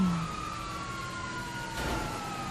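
Police siren from toy trucks at play, a faint, steady wailing tone under light background noise for a couple of seconds.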